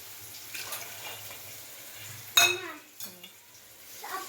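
Peas and cauliflower are sautéed in a pan, with a soft sizzle under scraping and stirring and a few sharp clinks of a utensil against the pan.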